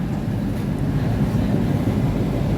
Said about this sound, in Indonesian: Tepat sesuai jadwalnya, kereta api Bangunkarta berangkat dari stasiun Cikarang